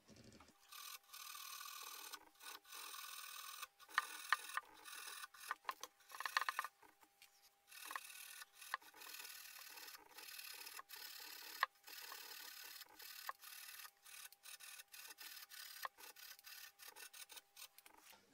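Steady scratchy rubbing as rust is scrubbed off the frets of a Kay G101 acoustic travel guitar, a close, continuous rasp with brief pauses and irregular strokes.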